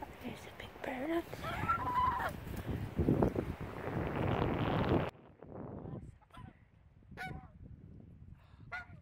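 Chickens cluck and squawk loudly and nearby in a busy burst lasting about five seconds, then fall to sparse, fainter calls against quiet surroundings, with some voices mixed in.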